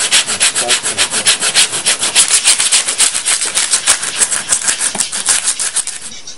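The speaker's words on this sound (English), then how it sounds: "Hold the sawmill and start cutting." A hand saw cuts through a thin wooden violin sound post held in a saw guide, giving a close, loud, steady rasping of rapid back-and-forth strokes that slows and fades at the end, with no talking.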